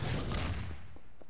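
Gunfire in Garry's Mod, a dense burst of rapid shots crackling together at close range, fading into scattered lighter pops toward the end.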